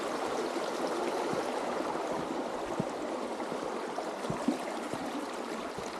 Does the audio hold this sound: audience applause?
no